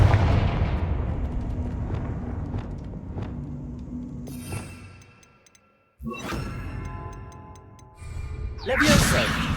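A Confringo spell blast goes off in Hogwarts Legacy, several sharp impact pops over a rumbling game soundscape, a brief near-silent gap, then further bursts ending in a bright crackling blast.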